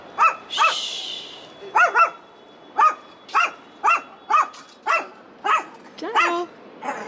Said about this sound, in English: Noisy doggy.